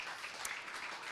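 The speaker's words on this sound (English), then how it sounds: "One more round of applause for them." Faint, distant audience applause at a business training session, a thin steady patter of clapping running throughout without any voices.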